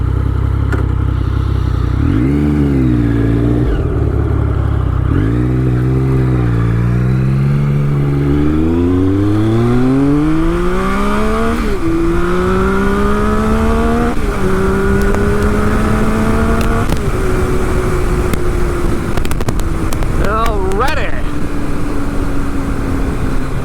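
A 2013 Triumph Speed Triple 1050 R motorcycle accelerating hard through several gears, the engine climbing in pitch and dropping at each shift, loud and close, with wind roar throughout.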